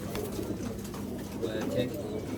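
Pigeons coo and rustle at a bird market, a busy low murmur of birds close by while someone talks over them.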